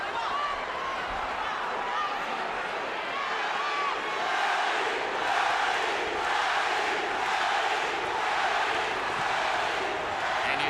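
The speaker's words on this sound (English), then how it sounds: "And you hear the adoration of the crowd." A boxing arena crowd roars in a steady wash of cheering and shouting at a bout between Pacquiao and Diaz, swelling slightly midway and holding loud throughout without a break.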